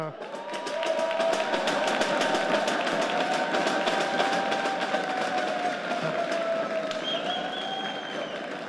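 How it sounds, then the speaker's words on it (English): Audience applause at a robotics competition final for a team from Germany, a broad steady wash of clapping and crowd noise lasting throughout, with some cheering and a sustained tone running beneath. "please, applause for the My Team"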